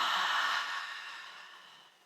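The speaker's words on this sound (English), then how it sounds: "We'll breathe in, and at the top, add a small breath, and then exhale audibly." A single audible exhale during a calming breathing exercise, close and airy, starting loud and slowly fading out over about two seconds.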